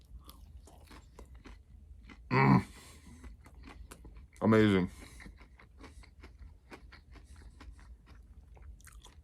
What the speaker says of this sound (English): It actually tastes like you're eating chicken breast, kind of, but also with the crunchy breaded shell.